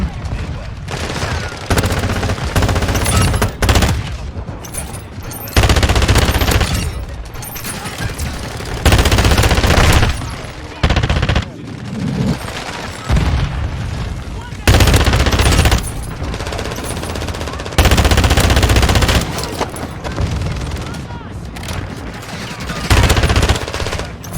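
Loud bursts of automatic gunfire in Call of Duty: Modern Warfare II, rapid rattling volleys repeating for several seconds at a time, separated by short lulls.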